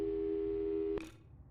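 A telephone busy signal in the video game Portal 2: a steady, loud tone holds for about a second before a click cuts it off, leaving faint hum.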